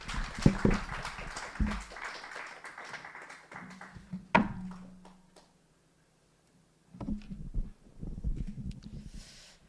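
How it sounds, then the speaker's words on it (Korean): Applause at a founding general meeting of the Bukchon urban regeneration residents' council welcomes chair Park Eun-suk: a dense, fairly loud patter of clapping for about four seconds, a sharp knock, then silence before a voice begins speaking. "큰 박수로 박은숙 의장님을 모시겠습니다"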